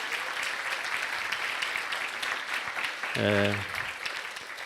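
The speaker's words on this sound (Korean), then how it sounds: "박수 한번 해주세요" Church congregation applauding a small-group ceremony at a Sunday service, a steady broadband clapping that fills the room, with a brief spoken word from a man near the end.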